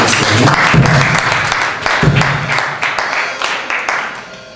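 A church congregation bursts into loud, dense applause that holds steady for several seconds and then breaks up into looser, separate claps, with some voices mixed in.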